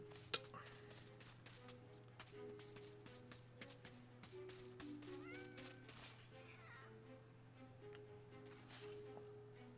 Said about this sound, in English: Think I heard a meow, yeah.